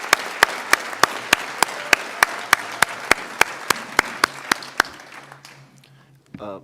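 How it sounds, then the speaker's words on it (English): Applause in a council chamber at an inaugural council meeting, led by loud, regular single claps close to the microphone over a softer wash of clapping, fading out near the end before a brief noise. "Let's give her another round of applause,"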